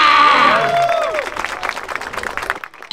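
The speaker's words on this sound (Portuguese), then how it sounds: "Palmas para Ornag aí" A crowd at a hip hop battle breaks into loud clapping and cheering, with whistles and shouts at first, then settling into scattered claps before it fades out.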